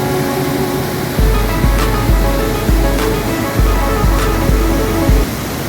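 Kozhippara waterfall at Kakkadampoyil keeps up a loud, unbroken roar of rushing water, broken now and then by low thumps of wind buffeting.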